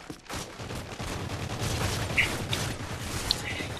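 Assault rifle fire in a video game, with a steady stream of rapid automatic shots rattling for a few seconds at moderate loudness and a couple of sharp metallic clinks above it.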